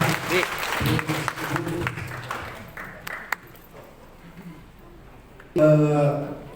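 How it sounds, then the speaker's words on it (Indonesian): An indoor church gathering applauds someone speaker, Dr. Rebecca, with brief clapping under a voice that fades out, followed by a short swell of sound near the end. "Kita berikan aplaus untuk Ibu Dr. Rebecca"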